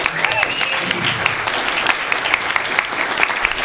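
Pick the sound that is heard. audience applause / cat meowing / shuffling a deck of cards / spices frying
audience applause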